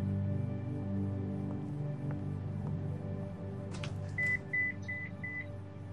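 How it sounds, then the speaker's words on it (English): A phone beeps in The Walking Dead video game, a short run of four or five even electronic tones near the end, over steady low game ambience and music. "That's my phone going off."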